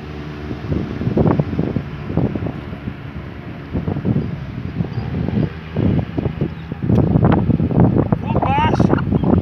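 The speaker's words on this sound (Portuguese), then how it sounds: "Hoje está a ventania absurda aqui na praia." Strong gusty wind at a beach roars and buffets the microphone throughout, with a heavy rumble that rises and falls, while a person talks underneath.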